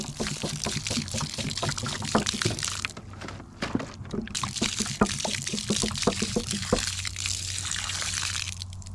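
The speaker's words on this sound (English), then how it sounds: "we're just going to pour it in here" Liquid poured into small scratched holes in the soil, a close, steady gurgling stream with little splashes and trickles for several seconds.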